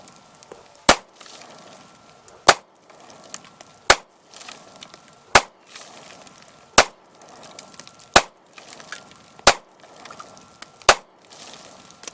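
A SCCY CPX2 pistol fires 115 grain ball ammo from about seven yards, eight sharp, loud shots spaced evenly about a second and a half apart, each a crisp crack with brief tail and quiet pauses between.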